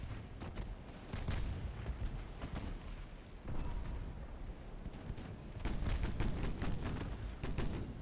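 Naval guns firing armour-piercing shells in the warship game Ultimate Admiral: Dreadnoughts, a dense run of booming blasts and impacts rolling on continuously at loud, close range with no pauses.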